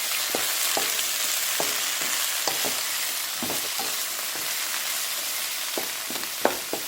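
Chopped chicken fajita ingredients sautéing in a pan, an even sizzle broken by repeated stirring taps and scrapes of a spatula, close and without talk.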